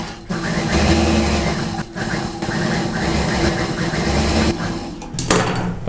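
A tailoring sewing machine stitches a folded fabric edge on a neck piping piece, running loud and close in continuous bursts with brief slowdowns, then stopping abruptly near the end.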